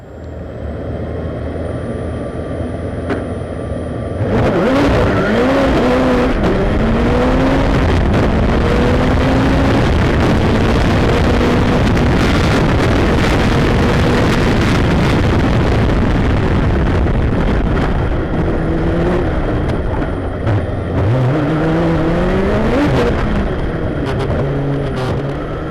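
Onboard a four-wheel-drive hillclimb race car with an auxiliary turbine and a strengthened Ford Sierra transmission, at a British Speed Hillclimb round: after a quiet idle, a loud engine roar with wind rush surges in, its revs repeatedly rising and falling.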